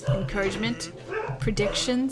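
Dogs barking and yipping indoors, several short excited barks and whimpers close by, mixed with someone talking over them.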